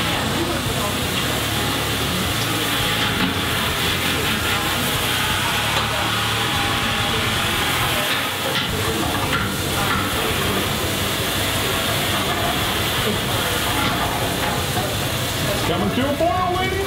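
Wort in a brewing kettle comes to a boil on a brew day, giving a steady, loud hissing rumble like escaping steam that fills the whole stretch, with faint voices underneath.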